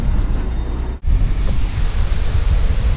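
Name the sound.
cold wind blowing outdoors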